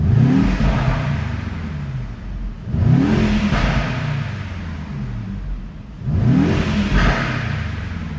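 A 2018 Mercedes-Benz E 63 AMG with a 4.0-litre V8 biturbo making 571 hp revs while parked, giving three sharp throttle blips that swell and fall back to a deep burbling idle, loud and close.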